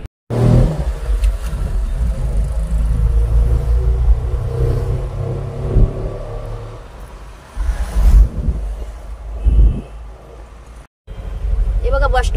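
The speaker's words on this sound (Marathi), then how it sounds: "मी रिक्षामध्ये बसली आहे आणि माऊला इथे ठेवलं आहे." Steady engine rumble and road noise from inside a moving auto rickshaw carrying a passenger through town streets, with the motor surging and revving at moments and a brief dropout near the end.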